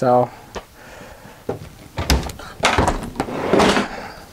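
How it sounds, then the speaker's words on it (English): A big residential Samsung refrigerator in a 2017 Holiday Rambler Vacationer 36H motorhome has its door opened and closed with several clunks and thumps, while someone talks over it. "Big residential Samsung refrigerator."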